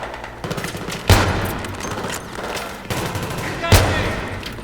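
Battlefield 3 gunfire: two heavy, booming shots about two and a half seconds apart, each followed by a dense crackle of rapid fire and rumble, with a busy noisy background throughout.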